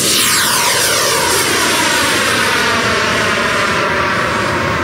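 A high-powered electric ducted fan RC model jet flies past with a loud, continuous turbine-like whine and rush of air. The pitch shifts as it passes for about five seconds, and no one talks.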